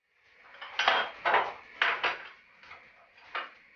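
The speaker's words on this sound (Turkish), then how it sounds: "Ocağımızı yakıp tenceremizi ocağa alıyoruz" Several clattering knocks of a metal pot being set down and shifted on a stovetop, close and fairly loud, in quick pairs with no talking.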